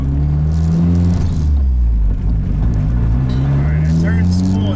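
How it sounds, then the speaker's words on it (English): A straight-piped Honda K24 engine in a Nissan Cefiro climbs toward high RPM at part throttle under light load, a loud droning exhaust that dips and rises again near the end, with someone talking over it. "trying to kind of ride up into the high RPMs with part throttle and not a ton of load"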